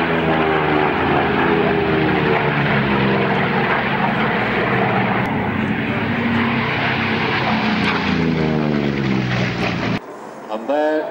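Two Vought Corsair propeller fighters fly in formation at an autumn air show at Duxford, their engines a loud, continuous droning roar that shifts in pitch as they pass, then cuts off sharply near the end.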